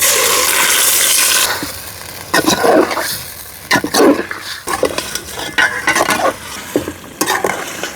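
Marinated chicken with browned chopped onions frying in a pot, opening with a loud burst of hiss as it goes in, then repeated spatula stirs and scrapes against the metal, close and loud, no speech.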